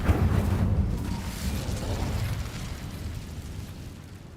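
The Incendio fire spell goes off in Hogwarts Legacy as a loud, close, roaring burst of flame, with a dense low rumble that slowly fades across a few seconds and no voices.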